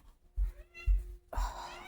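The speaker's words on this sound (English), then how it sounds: "This cat won't stop meowing until I let her out." House cat meowing insistently to be let outside: a few short, low, close meows and a longer, louder meow at the end, indoors with faint background hum.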